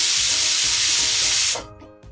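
A pressure cooker cooking soya chunks curry vents steam in a loud, steady hiss that cuts off sharply after about a second and a half, leaving faint clinks.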